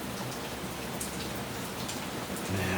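Heavy rain pours down steadily on an island in Southwest Florida, a dense continuous hiss with scattered droplet patter, even and unbroken, with no voices.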